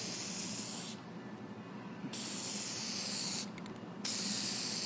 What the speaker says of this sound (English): we have to do maybe 2 or 3 coats with this thing, with this spray